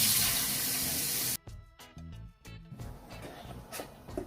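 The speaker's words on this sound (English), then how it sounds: "Now I'm going to add 4 cups of water to that." Tap water gushes loudly into a bowl of green gungo (pigeon) peas for about a second and a half, then cuts off, followed by quieter sloshing and clinking in a kitchen.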